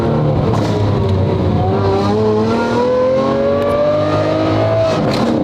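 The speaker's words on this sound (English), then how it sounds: "Sweet sound of that V12." A Ferrari 550 Maranello V12 with a straight-piped exhaust revs loudly and steadily nearby, its rising and falling engine note sustained throughout with no talking.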